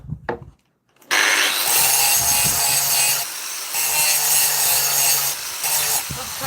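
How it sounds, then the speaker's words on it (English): A grinder disc grinds 304 stainless steel in sustained, loud passes broken by brief pauses, with a steady hum running under the abrasive rasp and no talking. "So I'm just going to go ahead and grind it again."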